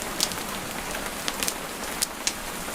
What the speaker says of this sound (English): The rain on the roof